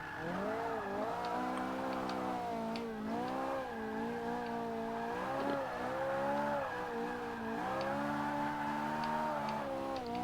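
A 560-horsepower car on street tires drifts sideways in Forza, its engine droning steadily with shifting pitch while tire squeal rides over it continuously for the whole stretch, loud and close with no talk.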